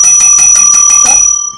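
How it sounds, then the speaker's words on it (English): A school bell signalling the end of the day, sounding as a loud, rapid metallic ringing with about six even strikes before it decays into a brief fading tone, close and alone. "Now I hear the bell to end school for the day."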